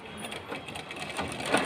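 A sewing machine runs steadily, stitching cotton lining cloth with a fast, even mechanical chatter, close and alone.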